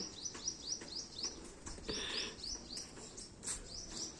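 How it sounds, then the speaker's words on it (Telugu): Sparrows chirp in quick, repeated high tweets, several short bursts close by in a rooftop garden over a quiet outdoor background. "ఒక్కటే కానీ దాని సౌండ్ ఎంత పెద్దగా ఉంది ఈ పిచ్చుకలు మన మల్లె తోటలో"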